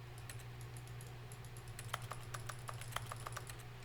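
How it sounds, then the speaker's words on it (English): Key presses in The Stanley Parable: Ultra Deluxe make a quick run of faint clicks, like button sounds, over a steady low hum, with no voice. "when you press keys, it like makes a button sound."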